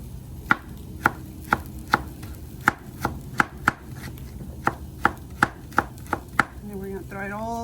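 A knife chops pineapple and onion on a cutting board with about fifteen crisp, evenly spaced thuds, close and clear, followed briefly by a short warbling tone at the end.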